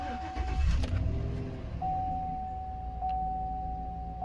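A 5.3L LS V8 running on diesel fuel in place of engine oil cranks over and settles into a steady idle, with a faint sustained whine above the close engine rumble.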